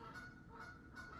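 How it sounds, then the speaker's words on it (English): Geese honking outdoors by a pond, three faint, distant honks spaced evenly apart over steady background noise, with no talking. "You guys might hear the geese outside."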